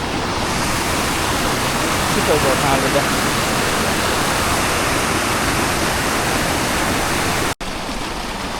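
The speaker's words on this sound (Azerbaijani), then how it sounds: "Burada başqa bir dənə şəlalə var" A waterfall in the Annapurna mountains roars as a steady broadband rush of falling water close by, with a person speaking briefly over it.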